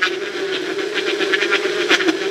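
Bullet mixie grinding onion, tomato and chilli, a close, continuous whirring motor hum with a gritty buzzing texture, heard alone.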